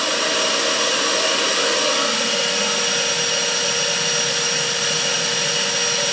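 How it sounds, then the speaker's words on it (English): A hair dryer rigged as an air blower for a bronze-melting gas furnace whooshes in a loud, steady, unbroken roar with a constant high whine, no voices. "How do you like my custom air blower?"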